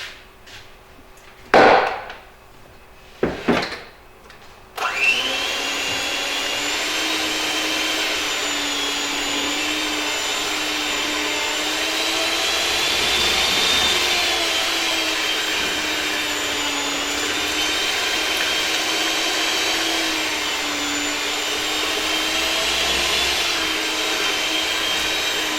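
Silicone being mixed with blue silicone pigment, likely by a power mixer: a steady, loud whirring drone that runs without a break after a few short knocks at the start.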